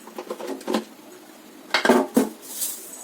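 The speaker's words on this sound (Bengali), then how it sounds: "কড়াইটা এবার আমি একটু নাড়িয়ে নেব" A hot kadai (wok) being shaken on the stove while cooking aloo chokha gives a few close metallic clatters and scrapes in short uneven bursts, with quiet gaps between them.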